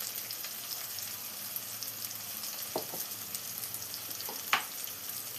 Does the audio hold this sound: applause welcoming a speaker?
no